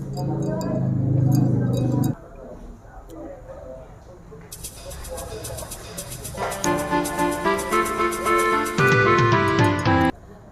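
Spoon stirring coffee with milk and palm sugar in a glass, giving bright repeated clinks and a scraping rattle that grow busier toward the end, after an opening stretch of talk.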